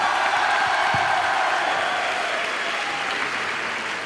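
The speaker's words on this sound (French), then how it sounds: "Donc bravo Toulouse, vous pouvez vous applaudir." Audience applause fills a hall at the Toulouse Game Show 2012, a dense, steady clapping from a large crowd that holds loud throughout and eases slightly toward the end, with no talking over it.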